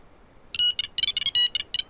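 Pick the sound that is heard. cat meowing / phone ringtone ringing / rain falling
phone ringtone ringing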